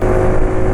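A car engine pulling hard under acceleration, its air filter at issue, a loud continuous roar held steady and close throughout the short burst.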